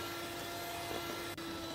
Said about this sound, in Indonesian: Kita kocok dengan kecepatan yang paling tinggi